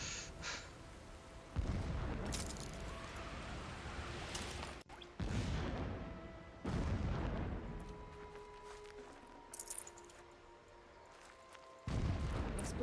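Distant explosions in Horizon Zero Dawn: several dull, broad booms spaced seconds apart, each swelling and lingering, over a quiet ambient background with faint tonal hum.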